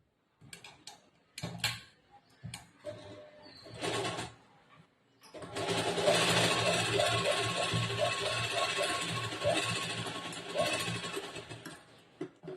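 Sewing machine stitching blouse fabric runs in a steady, close, rapid ticking hum for several seconds after some scattered handling noises and brief pauses.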